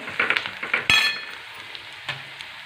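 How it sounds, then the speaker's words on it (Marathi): Cumin seeds and turmeric tempering in hot oil for a moong dal tadka, giving a crackling sizzle with a few clinks of a spoon against the pan, loudest early and then fading to a low, steady fry. "तो छान असा परतून घ्यायचा तेलामध्ये एक चमचा जिरं घेतलेला आहे ना ते पण टाकून घेतलेलं आहे"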